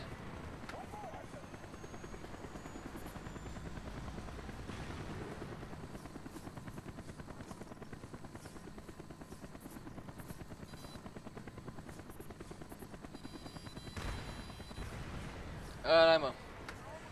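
Steady helicopter rotor drone throughout in the video game Call of Duty: Black Ops, with a voice talking over it and a brief burst of something louder near the end.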